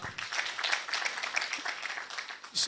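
An audience at a county best-practice award forum in Taita Taveta applauds, a bright, busy patter of many hands clapping continuously, with a sharper burst of claps near the end.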